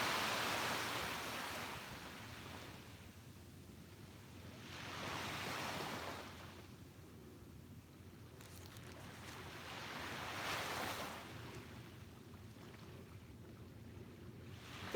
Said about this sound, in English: The waves are so relaxing today.